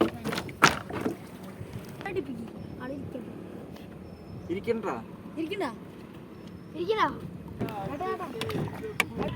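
A raft built from plastic drums moves across water, with soft sloshing and occasional splashes close by while people talk throughout.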